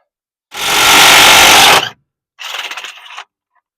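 A socket wrench ratchets a bolt on a 1969 Chevy C10, one long loud burst of rapid clicking followed after a short pause by a second, shorter and quieter run of clicks, close up.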